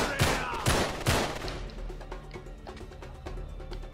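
Enemy gunfire in Uncharted 3 during a castle shootout: a few loud close shots at the start, then rapid distant bursts and scattered pops continuing, without speech.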